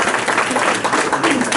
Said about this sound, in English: let's give Adriana a round of applause.